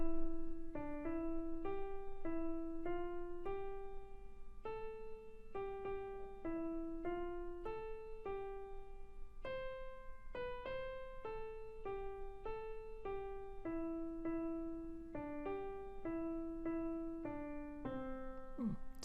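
A short melancholy melody of single sustained notes steps up and down in an even rhythm, ending in a cadence, played softly and alone with no talking.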